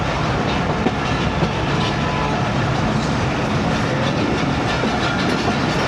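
A passenger train rounds a curve on a branch line near Sheikhupura, Pakistan, heard from the last coach: steady loud rolling rumble with rail clatter throughout, no talk.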